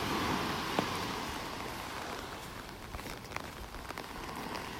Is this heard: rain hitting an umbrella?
yes